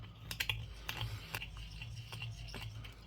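A deburring tool scrapes the inside edge of a coin ring made from a South African 5 Rand coin, giving light, irregular ticking and scratching strokes, close and fairly faint over a steady low hum.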